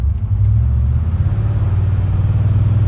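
A 1960 Ford F-100 Custom Cab pickup with a worked-over 351 Windsor V8 drives along, its engine giving a loud, steady low rumble that holds at an even pitch throughout with no talk over it.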